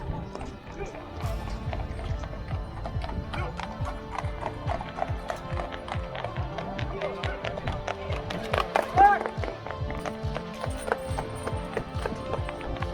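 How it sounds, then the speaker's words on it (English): Hooves of horses racing up and down a lane at Appleby Horse Fair, with carts alongside, clip-clopping in quick overlapping beats close by, a brief whinny near the end and people talking in the background. "There's carts and horses, as you can see, racing up and down"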